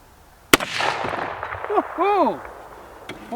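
A single sharp, loud rifle report from a .308 Bear Creek Arsenal side-charging upper with a 20-inch fluted heavy barrel, then a few seconds of outdoor ambience and vocal sounds, with a fainter pop near the end.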